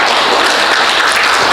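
A church congregation applauds the choir at a Sunday service, a dense, steady wash of many hands clapping together, loud and close, with no voices over it.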